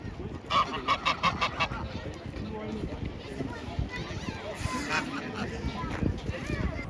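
Large waterfowl, ducks or geese, honking in a quick run of several calls near the start, then fainter calls amid outdoor crowd chatter and people talking.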